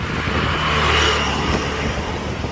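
A 2016 Honda Amaze S car driving, a steady low engine drone with road noise heard from inside the cabin, fairly loud and continuous.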